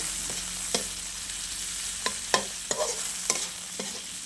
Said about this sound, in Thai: ผัดหมูให้สุก